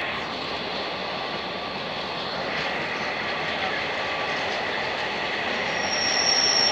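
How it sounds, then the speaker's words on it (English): A Class 66 diesel locomotive, number 66133, roars steadily with rail and wheel noise, a continuous loud rumble that swells slightly and ends with a thin high squeal. "Listen to that engine scream!"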